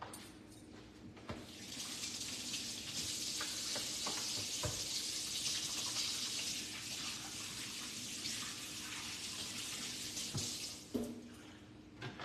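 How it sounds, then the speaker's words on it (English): Tap water runs steadily for hand washing in a kitchen while baking peach cobbler, a bright continuous rush lasting about nine seconds with a few clatters around it and no talk. "Let me wash my hands."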